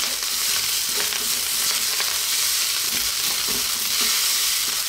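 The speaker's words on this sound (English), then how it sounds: "We're going to give this one final mix." Mushroom cauliflower fried rice is stirred in a hot pan with the heat just turned off, a loud continuous sizzle and hiss with scraping strokes of the spatula close by.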